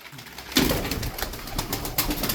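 Tumbler pigeons cooing close by in a loft: soft, throaty repeated coos overlapping in a continuous low murmur, with no speech.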